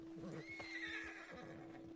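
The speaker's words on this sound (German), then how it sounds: "Pferd ist auch ganz unruhig." A horse in Red Dead Redemption 2 gives a restless whinny, a thin rising-and-falling cry over a steady game-ambience hum, with faint hoof clops nearby.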